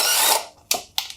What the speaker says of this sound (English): grab your impact wrench and go to town.